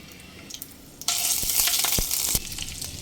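A bay leaf, asafoetida, slit green chillies and ginger paste dropped into hot oil for a vegetarian banana-stem kofta curry. A quiet start bursts into loud, crackling sizzle, with a few sharp utensil taps as it fades slightly.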